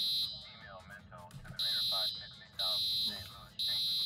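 A fire alarm in the Roblox game Maple County blares in loud repeating beeps, each lasting about half a second to a second and separated by pauses, while a person talks between and under the blasts.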